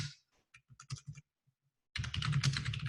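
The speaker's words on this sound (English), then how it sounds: "You can press shift on your keyboard, enter, enter, which takes you down 2 lines, and we can type your message here." Keys clack on a computer keyboard: a few separate taps, a short pause, then a fast, dense run of typing close by, with no one talking.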